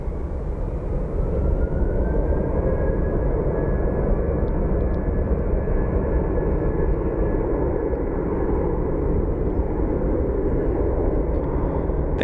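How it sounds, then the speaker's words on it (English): A Boeing 767 arriving and landing at Phoenix Sky Harbor International Airport gives a steady, broad jet engine roar, loud and continuous throughout with a faint rising whine over it and no talking. "After that, 767 comes in and lands."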